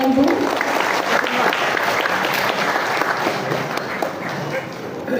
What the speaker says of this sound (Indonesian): Kita ingin dengan tepuk tangan Bapak Ibu.